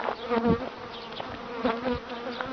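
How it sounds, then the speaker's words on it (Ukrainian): Honey bees buzz continuously and densely around new hives during a transfer of colonies, a steady close insect drone with shifting pitch and no talk. "Ну що, бджілки, вітаю вас з переходами"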